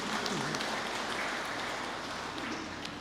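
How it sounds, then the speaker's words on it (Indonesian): A church congregation at an Easter Sunday service applauds, producing a dense, faint, steady patter of many hands clapping at once, heard from a distance and sustained throughout. "Mari dulu kita tepuk tangan buat Bandung Timur kita"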